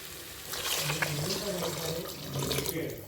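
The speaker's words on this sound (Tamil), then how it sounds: "இப்போ இதில் தண்ணியை சேர்த்துக்கலாம்" Water is poured into a pan of prawn pasta biryani as it cooks, giving a steady splashing pour for about three seconds while a voice talks over it.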